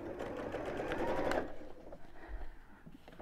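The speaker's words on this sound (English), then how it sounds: "just sew straight across" A sewing machine stitches a straight seam across a simple messenger bag, running steadily and fairly loud for about a second and a half before stopping, leaving quieter room sounds.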